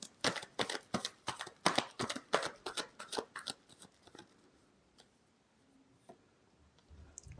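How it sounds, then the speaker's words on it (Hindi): Tarot cards are shuffled by hand in a quiet room. A run of about a dozen crisp, rhythmic riffling snaps sounds close up, followed by a few faint card taps and near silence. "Last shuffle."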